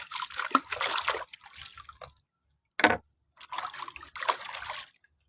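Stalks of lemongrass being rinsed in water, with splashing and trickling in three bursts separated by short pauses, close and moderately loud.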